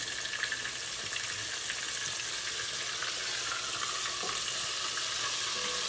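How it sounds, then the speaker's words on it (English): Thin pork schnitzel frying in hot oil, a steady loud sizzle and crackle holding even throughout with no talk over it. "Let that one fry up a little bit."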